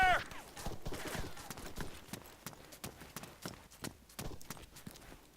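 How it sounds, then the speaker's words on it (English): Enemy gunfire crackles in a military shooter game, with sharp shots and bursts scattered irregularly at mid distance, some close and loud, others fainter, over a busy background. "Enemy fire!"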